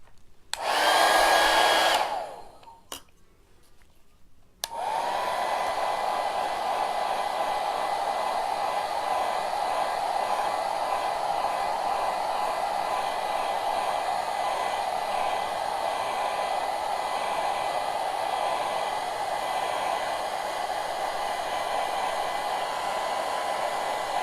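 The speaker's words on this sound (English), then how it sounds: "So let me put the blow dryer on this," A blow dryer runs steadily on craft pieces for a snowman winter wreath, switching on with a brief loud burst and then holding a constant loud whooshing drone to the end.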